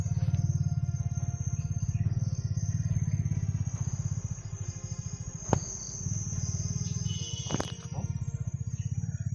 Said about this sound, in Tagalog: Saan banda yung tunog ng motorsiklo, Brad?